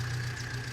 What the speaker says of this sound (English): let's get the tractor going here